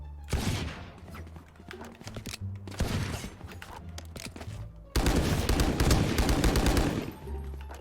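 Rapid gunfire in the video game Valorant, loud bursts of automatic shots with a sustained heavy barrage near the end, over game background sounds.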